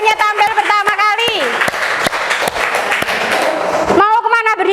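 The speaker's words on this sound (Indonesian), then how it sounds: "Kasih tepuk tangan atas keberaniannya tampil pertama kali." An audience claps for a first-time performer in a burst of dense, steady applause lasting a few seconds. A voice talks just before and just after it.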